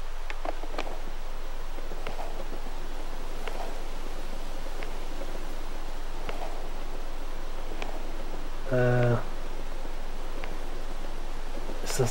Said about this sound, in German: Hört ihr das Rauschen auch gerade?